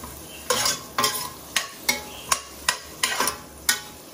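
Butter melting into hot oil in a pan gives a close sizzle, while about nine sharp, evenly spaced scraping or stirring strokes knock over the top.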